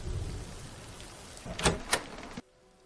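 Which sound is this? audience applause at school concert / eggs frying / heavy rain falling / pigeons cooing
heavy rain falling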